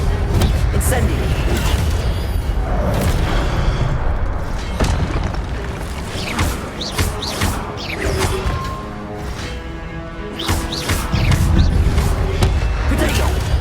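Hogwarts Legacy spell combat: booming Incendio fire blasts and whooshing impacts keep coming loudly and close, with a voice shouting spell names now and then over the clash.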